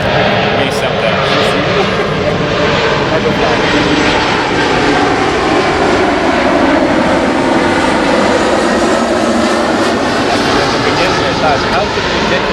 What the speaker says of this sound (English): The plane is coming.